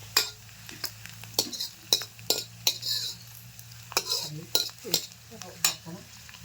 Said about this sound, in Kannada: ಉಳ್ಳಾಗಡ್ಡಿ ಎಲ್ಲ ಸ್ವಲ್ಪ ಗೋಲ್ಡನ್ ಕಲರ್ ಬಂದಂಗೆ ಚಂದ ಫ್ರೈ ಆಯ್ತು ನೋಡ್ರಿ